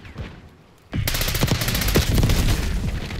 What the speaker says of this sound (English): Bullet spam.